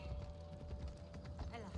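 Horse hooves clatter on stone stairs in Assassin's Creed Odyssey, a quick run of soft clip-clop steps with game ambience and a voice talking over them.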